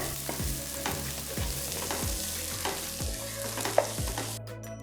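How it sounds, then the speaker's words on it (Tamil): Chopped onion with cashews sizzles and fries steadily in a hot pan while a spoon stirs and scrapes it in repeated strokes, close and clear. "ஒரு வெங்காயம் பொடியை நறுக்கி போட்டு கிண்டுங்க."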